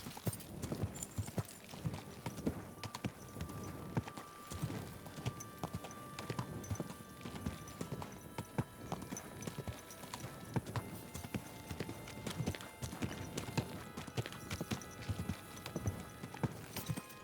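Horse hooves clip-clop steadily in Kingdom Come Deliverance 2, a continuous rhythmic trot of close, moderately quiet hoofbeats with no talk over it.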